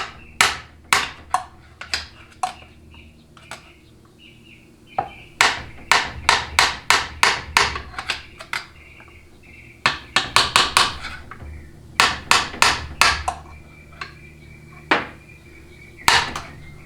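Sharp metallic taps strike a part from a 1995 4L60E automatic transmission, landing in quick clustered bursts with short pauses between them, close and fairly loud.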